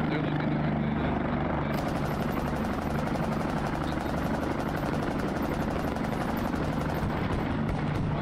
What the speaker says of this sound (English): tail rotor's gone on the heli